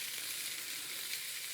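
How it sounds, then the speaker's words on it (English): A pound of bacon fries on a grill with a soft, steady sizzle. The crackling hiss is faint and even throughout, with no talking. "So we got a nice sizzle"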